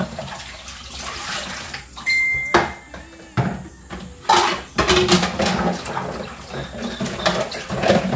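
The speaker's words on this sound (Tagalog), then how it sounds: "igib muna sa balde." Tap water runs and splashes into a bucket at close range, with bursts of pouring, clanks of the container and handling noises in between, fetched while the main supply is shut off because of a leaking pipe.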